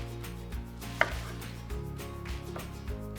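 A knife chopping tomatoes into cubes on a board: a few distinct crisp chops, one sharper than the rest, over a steady background of low music.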